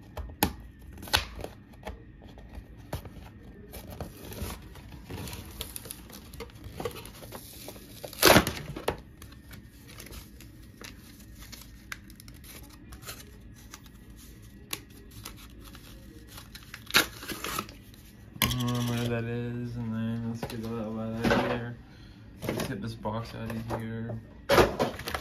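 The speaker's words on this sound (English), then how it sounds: "I think it's hard to get out of the packaging" Plastic blister packaging crackles and crinkles as a Wonder Woman action figure is forced out of it, with irregular bursts of rustling and clicks; a person talks over part of it.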